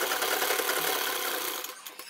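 A sewing machine runs steadily, stitching fabric laid over buckram for a neckline design, with a continuous close mechanical whir that eases off near the end.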